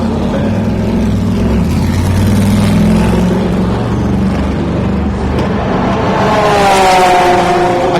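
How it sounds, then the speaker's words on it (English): A Chevrolet Corvette race car passes at speed, a loud, steady engine drone whose tone climbs in rising harmonics toward the end, with no talking. "That was the Dome Judd, that last one going by, and here goes the Corvette."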